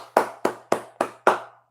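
Five sharp hand claps at an even, moderate pace, close and loud, with silence between them and no voices.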